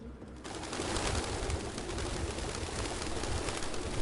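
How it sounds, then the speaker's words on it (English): A dense flock of pigeons or doves cooing and rustling in Detroit: Become Human fills the scene with a steady, loud wash of overlapping calls that swells after a brief quieter start. "These are so many birds."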